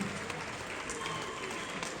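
Crowd applause at a rumba music premiere event, a dense continuous wash of clapping, moderately loud and even over two seconds.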